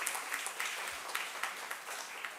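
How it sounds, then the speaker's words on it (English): A symposium audience applauds its keynote speakers, a faint, dense patter of many hands clapping at a distance, steady for a couple of seconds. "to have a huge round of applause for the keynote speakers who made their way all the way from Turkey"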